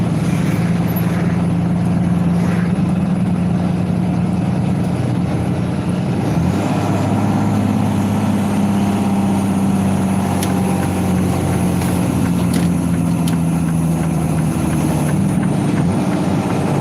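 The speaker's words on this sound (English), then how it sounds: "I'm keeping my engine brake on right now for a simple fact." A truck rolls along with its engine brake engaged, giving a loud, steady low drone with road rumble that holds unbroken throughout.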